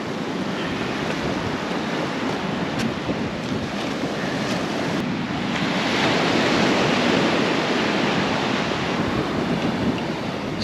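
Steady roar of ocean surf on an incoming tide at an Indonesian island, loud and close, with wind buffeting the microphone and a brief swell in intensity toward the end.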